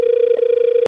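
A telephone rings with a single sustained electronic tone that warbles slightly, loud and close, cutting off abruptly just before the second ends.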